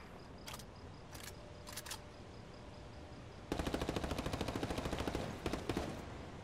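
Automatic gunfire from a Ghost Recon Wildlands firefight: a few short bursts with a faint steady tone beneath, then a loud, dense rattle of rapid shots that runs continuously through the second half.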